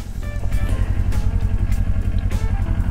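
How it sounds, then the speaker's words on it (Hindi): A motorbike engine running steadily with a low rumbling throb as it is ridden down onto soft beach sand at Maraetai Beach, close and continuous throughout. "आई थिंक यहाँ से मैं बाइक उतार सकता हूँ नीचे"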